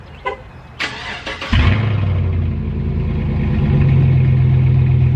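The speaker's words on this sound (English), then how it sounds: "let's get a little cold start for you." Lifted Chevrolet Tahoe on 26x14 wheels cold-starting up close: a couple of clicks and a short starter crank, then the engine catches with a loud burst and settles into a steady, rumbling idle.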